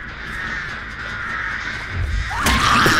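A crow caws loudly and harshly in the Dead by Daylight horror game, a repeated close cry over a low ambient hum, ending in a sharper, louder burst.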